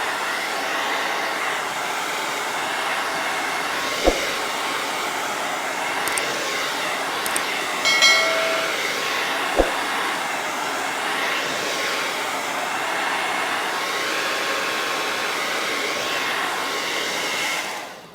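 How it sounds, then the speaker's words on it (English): A blow dryer drying paint roars steadily at close range for a long stretch, a constant whooshing hum with a couple of brief clicks and knocks. "Now we're going to pick up our blow dryer, dry that stuff."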